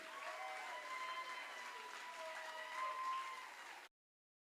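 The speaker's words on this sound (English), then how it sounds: "Give a huge round of applause and for Nikki" Gala audience applause for Nikki after a charity auction, a soft sustained patter of many clapping hands that cuts off abruptly near the end, with faint tonal sound underneath.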